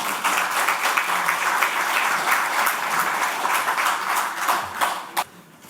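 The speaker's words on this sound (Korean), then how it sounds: "함은경 대표님께 큰 박수 부탁드리겠습니다" An audience at a lecture event claps for an introduced speaker, a dense, even patter of many hands that holds for about five seconds before thinning out and fading.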